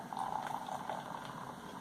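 Hop City Polly Want A Pilsner beer is poured into a footed glass, a soft, steady, fizzing splash close by that stays quiet and continuous throughout.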